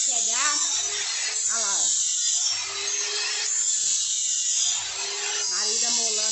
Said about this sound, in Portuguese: Marido molando ali a roçadeira